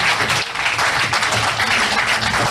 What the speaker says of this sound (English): A round of applause to them as they come.